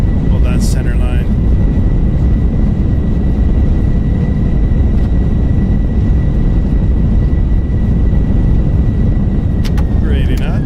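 An FSLabs Airbus A321 with CFM engines lands in a flight simulator, deploying thrust reversers. The result is a loud, continuous roar of engine and rumbling rollout, with a few brief chimes.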